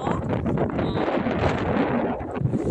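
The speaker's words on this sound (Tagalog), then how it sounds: "kusog kayong hangin uy" Strong wind roars steadily across the microphone on Seaside Boulevard, Hong Kong, a loud continuous rumble and buffeting with no pause.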